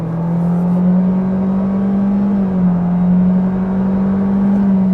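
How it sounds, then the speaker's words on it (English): A 2025 Honda Civic Sport accelerates at full throttle, its engine a loud, steady drone heard from inside the car, with no talking. "We can take a step out here, open her up a little bit more."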